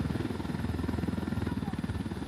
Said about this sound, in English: I'm going to park the helicopter a wee bit away and be ready.